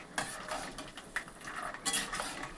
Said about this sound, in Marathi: आता आपण शेंगदाणे तळून घेऊ.